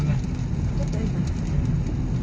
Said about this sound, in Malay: masih hujan sepanjang jalan ni hujan